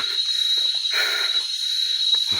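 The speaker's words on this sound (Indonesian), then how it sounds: "Suara-suara jangkrik." Crickets chirp along an uphill hiking trail, a continuous high, even trill filling the background, with faint scattered rustles and footsteps underneath.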